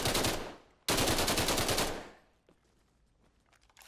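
Two long bursts of full-auto fire from a suppressed FN SCAR L 5.56 rifle in Arma Reforger, rapid and loud, the second burst longer, followed by quieter scattered clicks.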